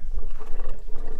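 An overheated car radiator, after a hose came off and blew out the coolant, gives a loud, steady rumbling hiss that carries on unbroken.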